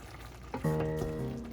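Thick tomato sauce for eggs in purgatory bubbles and sizzles in a pan and is briefly stirred, a short close burst of cooking noise with no talk.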